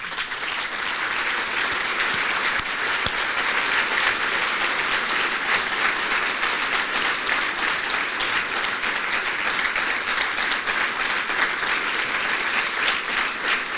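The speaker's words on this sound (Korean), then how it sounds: "천진 참 부모님께 우리 모두 감사의 박수를 올리지 아니시겠습니까?" Large audience at a main event in Norway applauding, dense sustained clapping that fills the hall steadily throughout without a break.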